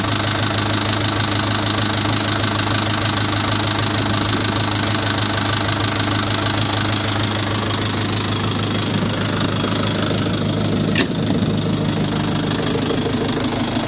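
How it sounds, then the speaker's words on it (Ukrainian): A Lovol 354 diesel tractor engine idles steadily close by, with a low, rhythmic knocking throb that continues without letup. "так робить двигун."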